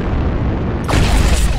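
Artillery strike explosion in a MechWarrior video game, a low steady rumble that erupts into a loud, broad blast near the end, with a synthetic voice announcing in the background.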